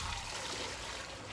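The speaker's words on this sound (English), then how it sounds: "So right now I'm just gonna pour" Water being poured out, a steady, even rush of liquid splashing continuously at moderate, fairly quiet level, with no talk over it.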